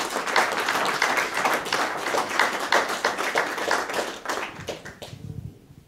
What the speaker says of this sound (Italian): a cui farei un applauso